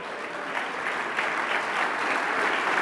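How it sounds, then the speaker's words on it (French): A standing banquet audience at a 2023 induction ceremony claps for the inductees; a full, continuous wash of hands swells slightly and holds steady from start to finish. "qu'on puisse vous donner une bonne main d'applaudissement"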